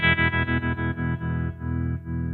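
Electric guitar through a Showtime '64 tube amp plugin with tremolo at full depth, the sustained chord chopping rapidly on and off in a steady pulsing rhythm, loud and close with no talking.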